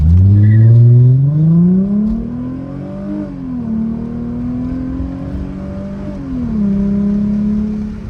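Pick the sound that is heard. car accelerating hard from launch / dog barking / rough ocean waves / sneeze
car accelerating hard from launch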